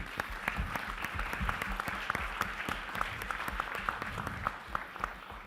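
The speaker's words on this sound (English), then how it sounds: "give a huge round of applause to Sherin" A panel audience applauds at an event on organisational culture, a brief, moderately distant patter of individual claps with distinct sharp hits over about five seconds.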